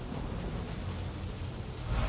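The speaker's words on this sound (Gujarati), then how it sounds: "સુરત અને ઓલપાડમાં વરસાદ થઈ રહ્યો છે." Steady rain pours down at Olpad near Surat in Gujarat, a continuous broadband hiss of drops on surfaces that stays even and close throughout, with no voices.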